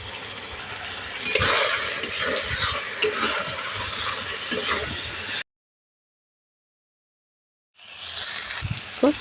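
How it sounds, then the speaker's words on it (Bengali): A drumstick and potato curry being stirred in a pan to dry it out, with sizzling and the scrape and clink of a spoon against metal, a sudden silence, then stirring resumes. "নাড়াচাড়া করে এটাকে একটু শুকনো শুকনো করে নিচ্ছি"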